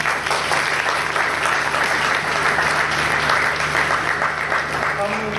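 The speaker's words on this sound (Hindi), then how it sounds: "तालियां बजाएंगे।" A congregation at a Sunday church service breaks into steady, dense applause, many hands clapping together at close range for several seconds with a low hum beneath.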